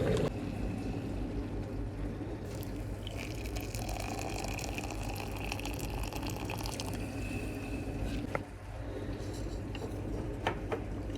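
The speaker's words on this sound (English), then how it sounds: "So I'm going to quickly grab some hot water, fill this up" Hot water pours steadily into a container in a woodworking workshop, a continuous rushing fill lasting several seconds with a brief knock near the end.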